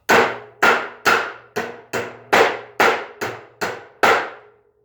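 A titanium framing hammer drives nails with ten sharp, evenly spaced blows, each a loud close strike with a brief ringing decay, heard alone.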